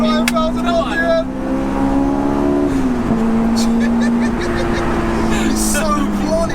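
An HKS supercharged 416 bhp Honda S2000 screams up toward 9,000 RPM, its steady, loud engine note holding and then shifting pitch as the revs climb, with people talking excitedly over it.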